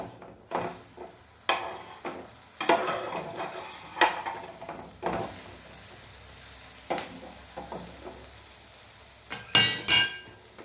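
Bread frying in a pan for a tofu sandwich, turned over with soft scrapes and clinks, a quiet sizzle running between intermittent louder stirring and flipping sounds, no talking.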